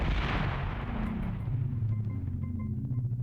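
Grenade blasts against a boss in the game Aliens: A Comic Book Adventure, a loud booming explosion burst at the start decaying into a low rumble.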